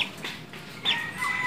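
A chicken clucks a few times in short, close calls with a rising squawk near the middle.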